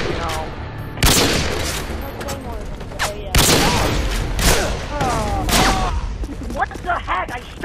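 Bursts of gunfire in an online clan 2v2 first-person shooter match, several sharp loud volleys separated by short gaps, with a player talking excitedly between and over the shots.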